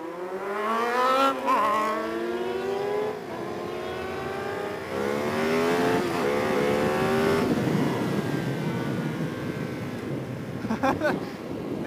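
A Ducati motorcycle engine roars loud and close, its pitch climbing and falling through several revs and gear changes, with wind noise over the microphone.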